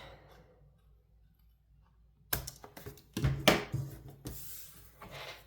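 After a quiet stretch, scissors snip and crunch through paper card stock in a few close, uneven cuts, with light rustling between them.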